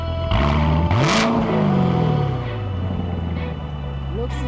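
A Z06 sports car engine revs up loudly and close by, climbing in pitch, then easing back down into a rumbling idle, with a brief second blip near the end.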